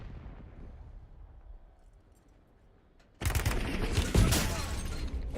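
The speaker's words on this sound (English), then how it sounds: "Frag going out." A frag grenade goes off in Call of Duty Warzone: after a few seconds of quiet game ambience, a sudden loud, close blast breaks in and leaves a sustained roaring, crackling rumble.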